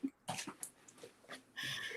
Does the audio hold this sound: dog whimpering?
yes